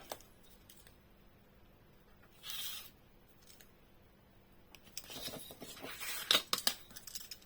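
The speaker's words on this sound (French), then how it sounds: "Voilà, on coupe." Scissors snip through paper while making a pop-up Christmas card, a few close, quiet cuts: one short crisp stroke early, then a cluster of sharper snips toward the end in an otherwise hushed room.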